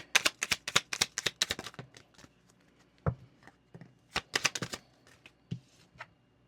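Tarot cards being shuffled by hand in quick bursts of crisp riffling flicks, separated by pauses and a few soft thumps as the deck is tapped, close and fairly quiet.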